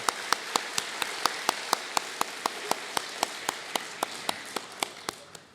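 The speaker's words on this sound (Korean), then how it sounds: "우리 박수 한번 해드리겠습니다." A congregation claps in rhythmic unison at a Thanksgiving dawn prayer service in a church, making a steady run of sharp, evenly spaced claps for several seconds with no voices.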